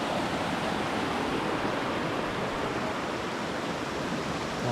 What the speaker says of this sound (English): A bit more of Blackfellows Creek.